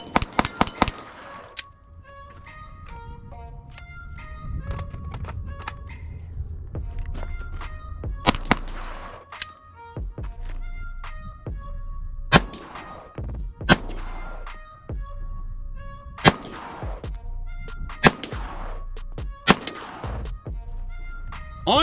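A Glock 17 pistol fitted with a Radian Ramjet compensator fires a string of loud, sharp shots at irregular intervals, each crack ringing briefly, with no talking.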